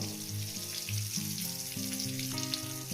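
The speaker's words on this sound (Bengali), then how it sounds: "আলু ছোটো করে দিয়েছি আলুটাকে মিনিমাম আমি দু মিনিট একটু ভেজে নেব" Small-cut potatoes fry in a pan, making a soft, continuous sizzle. A sustained tonal melody plays underneath the frying.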